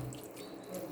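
Tap water pours in a steady, soft stream as it is added to a pot of spinach and carrots for a chicken dish, brief and uninterrupted.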